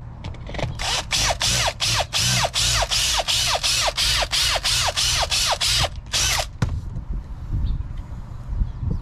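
Fuel pump basket being cut for a bulkhead fitting during a Walbro 450 fuel pump install on a turbo Honda Element: a fast run of rapid, evenly spaced buzzing cuts from a power tool, loud and close, ending abruptly with quieter handling noise.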